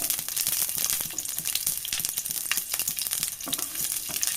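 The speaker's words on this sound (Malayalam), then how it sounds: "ഇതിലേക്ക് നമുക്ക് ഒരു സ്പൂണോളം വെളിച്ചെണ്ണ ഒഴിച്ചു കൊടുത്തിട്ടുണ്ട് ഇനി നമുക്ക് ഉള്ളി ഒന്ന് ഇട്ട് കൊടുക്കാം" Onions sizzle steadily in hot coconut oil in a pan, a dense crackling fry with small pops and faint stirring, close and continuous with no voices.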